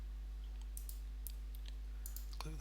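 Mouse clicks on a computer while setting up options in eye-tracking analysis software, several faint, scattered clicks over a low electrical hum, with a closer burst of clicking near the end.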